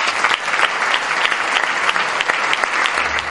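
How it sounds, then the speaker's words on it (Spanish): Dense, sustained applause from an audience at a band's 25th anniversary concert, steady and fairly loud throughout with no voices rising above it. "Recibamos, por favor, un fuerte aplauso a Diomedes Ortiz."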